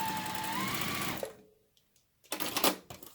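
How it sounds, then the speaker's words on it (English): A sewing machine stitches a quarter-inch seam on a white log cabin quilt block in a steady rapid whir that stops abruptly, then starts again after a brief pause for a short, uneven second burst. "I'm going to stitch from this end about halfway through the white block, and I'm using a 1/4 inch seam"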